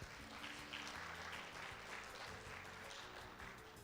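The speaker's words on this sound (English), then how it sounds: "Let's give him a big round of applause." Audience applause at an Atomy Company corporate event in Singapore, steady clapping from a crowd sustained for nearly four seconds at a moderate, fairly distant level.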